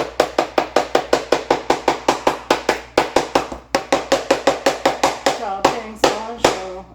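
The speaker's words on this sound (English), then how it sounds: "Chopping cilantro." A knife chops fresh garden cilantro on a cutting board in quick, even, sharp knocks, about three per second, close and crisp, slowing into a few scraping strokes at the end.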